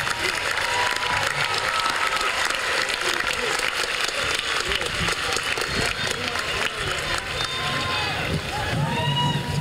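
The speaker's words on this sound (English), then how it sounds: "let's give our certificate awardees one more round of applause" Sustained, dense applause fills a large college commencement crowd honoring certificate awardees, steady and loud throughout with a murmur of voices mixed in.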